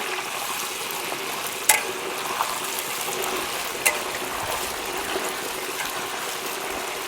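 Thin cassava chips fry in hot oil with a steady crackling sizzle, a dense continuous hiss with occasional sharper pops and clicks.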